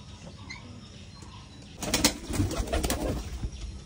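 Domestic white pigeons kept by a fancier, with a burst of loud, close wing flapping partway through over soft background cooing; no talking.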